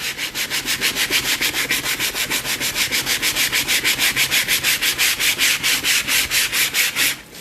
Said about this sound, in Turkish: Wooden Wax'ın geldiği yerlerde zımparayla bunu eskitiyorum.